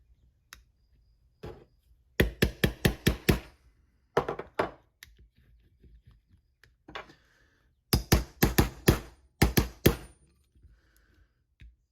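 Pin punch being hammered to drive out the sear block pin of a Smith & Wesson M&P Shield EZ pistol: quick clusters of sharp metallic taps, several bursts of four to six strikes separated by quiet pauses, close up.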